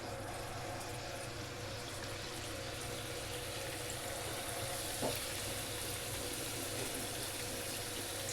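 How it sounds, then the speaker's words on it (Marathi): Karanji pastries slipped one at a time into hot oil for Diwali sweets, a steady broadband hiss of frying that holds at an even level throughout, with a faint brief splash of oil near the middle. "तर तेल तापलेलं आहे आपण एक एक करून चिचवूया सोडूया"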